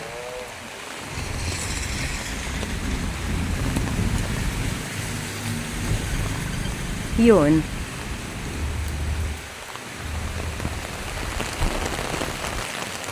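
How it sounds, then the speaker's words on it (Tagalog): Heavy typhoon rain pours steadily in a dense hiss over street surfaces in Borongan, with a brief voice speaking partway through and a short swell of noise near the middle. "Malakas ang ulan, guys."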